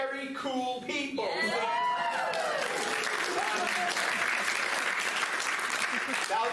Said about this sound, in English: That was like the easiest round of applause.